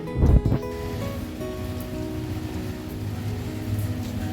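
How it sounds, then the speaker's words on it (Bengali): A sudden outdoor rain shower with gusty wind makes a steady, dense hiss of drops. A few heavy thumps come near the start, and the rain keeps up at an even level after them. "এখন হঠাৎ করে বৃষ্টি শুরু হয়ে গেছে"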